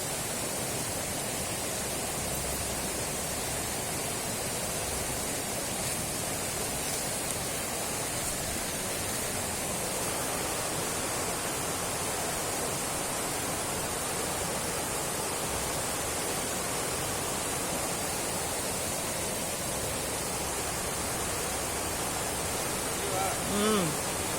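Fast-flowing water rushes loudly and continuously close by, a broad, steady roar with no breaks. Speech is faintly present beneath it.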